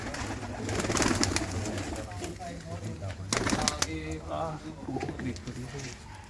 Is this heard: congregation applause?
no